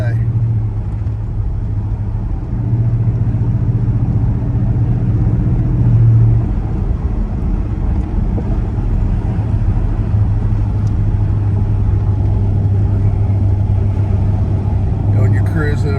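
A 1978 Chevrolet El Camino SS with an LS engine cruises at about half throttle, a steady low engine drone and road rumble running throughout with a brief swell midway, while someone talks over it.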